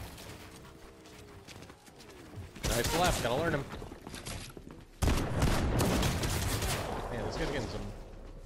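Rapid Fortnite gunfire in a duos cash cup match, bursts of sharp cracking shots starting quietly, then two loud dense volleys of sustained fire with a voice talking faintly early on.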